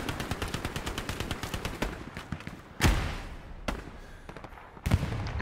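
Rapid machine-gun fire in the Hell Let Loose video game rattles in a steady stream of close shots for about two seconds, then gives way to a few louder single rifle cracks spaced apart over a low ambient battlefield background.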